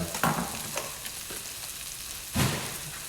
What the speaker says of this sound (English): we want to fry the onion nice and evenly